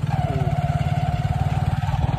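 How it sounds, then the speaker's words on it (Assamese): A steady, close motor engine drone with a regular pulsing rhythm, like riding on a motorcycle at constant speed, with no talking. "মই আৰু ভিন্দ বাইকত যাম"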